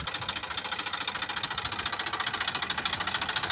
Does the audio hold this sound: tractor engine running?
yes